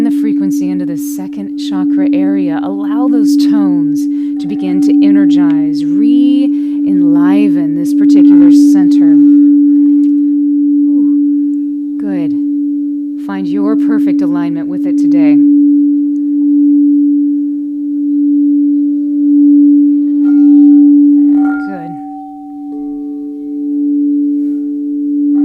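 Crystal singing bowls tuned to 432 Hz hold a steady low resonant tone, sustained and unbroken, with a higher pitch joining near the end, while a calm voice talks over it in bursts.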